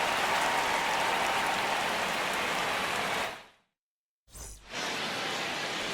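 Heavy rain pours onto the baseball field in MLB The Show 25. The downpour is a dense, steady hiss that cuts out briefly near the middle and then returns at full strength.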